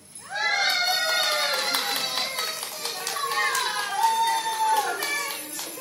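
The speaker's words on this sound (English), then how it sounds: "as the elves roared in their approval" A crowd of elves cheers and roars in approval at the midnight announcement of the first gift of Christmas, a loud sustained mass of high excited voices and shouts lasting throughout.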